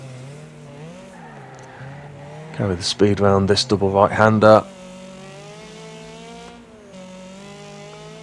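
Race cars in the Wreckfest video game jostle for position on a circuit, with a steady engine drone and a short burst of loud tire squeal in the middle, while someone talks over most of it.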